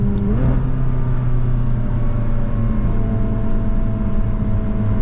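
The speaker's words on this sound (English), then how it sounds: "Nice turbo spool, turbo noise, little blow up valve when you let off." A McLaren sports car engine droning steadily up close as it accelerates and upshifts, with a rising turbo whine and a brief shift in pitch near the start, no voices.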